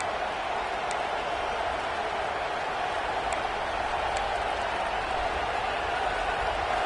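Roaring crowd noise fills a college football stadium at Death Valley during a huge third down, a dense, steady wall of cheering from thousands of fans with faint whistles cutting through, sustained throughout.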